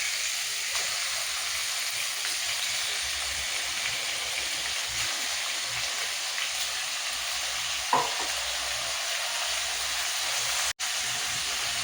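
Chicken pieces frying for a chicken curry in a pan, a loud continuous close-up sizzle and hiss that holds steady throughout, with one brief stir-like bump near the end and no speech.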